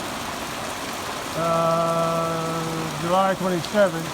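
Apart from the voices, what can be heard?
rain falling outside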